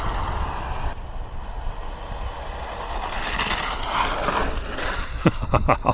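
Arrma Big Rock 223S BLX RC monster truck on a speed run, a steady motor whine and rushing noise throughout, with a burst of sharp rattling clicks near the end.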